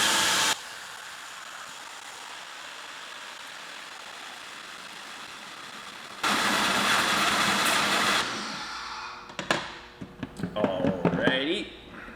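Greenworks electric pressure washer spraying through a Ryobi nozzle into a bucket, a loud steady hiss that jumps louder partway, then cuts off into clattering and a voice at the end.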